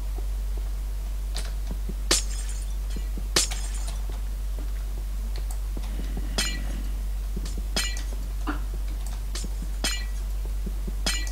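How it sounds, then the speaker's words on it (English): Glass blocks in Minecraft are smashed one after another, giving sharp, close, bright shattering clinks at irregular intervals about a second or two apart over a low steady hum. "Break all the glass again."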